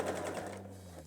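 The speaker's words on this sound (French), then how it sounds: "tu peux faire ta couture tranquillement, faire ton petit point d'arrêt" A domestic sewing machine runs a short burst, stitching a backstitch in fabric, then slows with a low steady hum over about a second, quiet and close.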